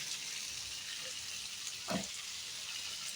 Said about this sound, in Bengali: আমার জামাই বানাইতেছে রুটি